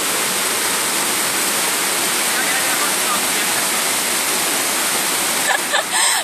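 Waterfall at Namtok Chet Sao Noi National Park in Thailand: a loud, steady rush of falling water fills the whole clip, with brief voices near the end.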